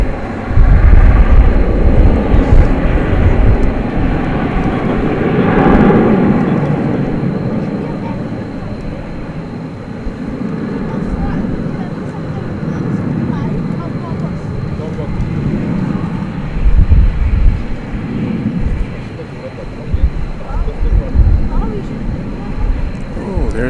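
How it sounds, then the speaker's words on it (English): An airliner departs DFW Airport at night on a flight to Las Vegas, its broad, steady engine roar rising and lingering over the field while someone talks over it. "here goes the flight to Las Vegas"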